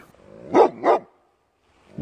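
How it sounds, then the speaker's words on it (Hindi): A dog giving two quick, sharp barks in a row, close and loud, followed by a short silence. "dog D O G dog dog मतलब कुत्ता"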